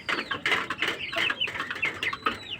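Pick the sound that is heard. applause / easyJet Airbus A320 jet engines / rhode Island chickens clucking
rhode Island chickens clucking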